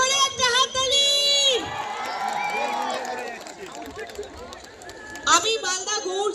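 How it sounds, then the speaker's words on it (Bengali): Lively crowd at the Gour Malda Marathon 2025 cheering and shouting, with high children's voices whooping in bursts at the start and end and a steady roar of chatter in between; people talk over it. "নিজেদের জন্য জোরে একটা হাততালি"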